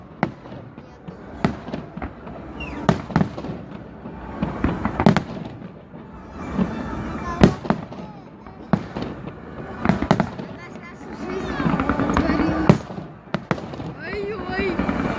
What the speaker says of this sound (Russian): Когда в жизни такой салют долгий.